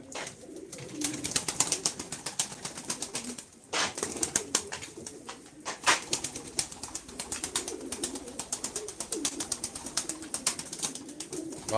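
Pigeons coo steadily throughout, several birds close by with overlapping soft, rhythmic calls over a busy background of scattered clicks and rustling, with no talk.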